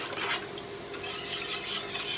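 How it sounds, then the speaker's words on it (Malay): Cendol batter being stirred in a pot until thick and glossy, a continuous close scraping and rubbing with uneven swishing strokes, with no talking. "Kena kacau sehingga adunan ini betul-betul berkilat."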